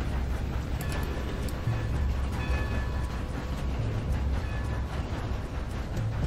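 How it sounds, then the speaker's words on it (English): A steam train runs in Red Dead Redemption 2, making a steady, loud rumble with faint rhythmic rail clatter throughout and no talking. "Well, at least I get to drive a train."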